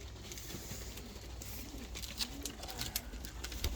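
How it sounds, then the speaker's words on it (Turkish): Lahore pigeons, including a large jumbo-sized bird, coo softly and intermittently close by among quiet rustling, with low background noise. "Sarı Lahor'un eşi arkadaşlar bu da. İri bir jumbo boy Lahor."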